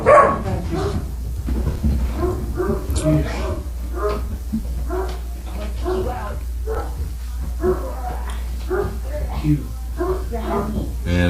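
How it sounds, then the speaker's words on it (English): Dogs bark outside, repeated bow-wow barks and some whimpering yips at moderate distance, with a person talking over them throughout. "I hear dogs barking outside"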